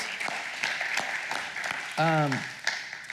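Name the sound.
congregation applause in church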